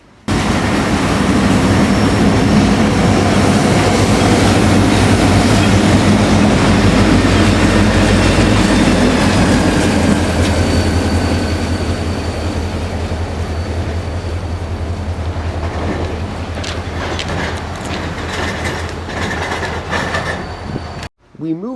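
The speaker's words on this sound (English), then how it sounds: "A pull-down shoves back into the yard with CN 5273 and EJ&E 667 for power." A freight pull-down led by CN 5273 and EJ&E 667 shoves back into the rail yard with a loud, steady locomotive rumble and rolling car noise, faint squeals rising near the end.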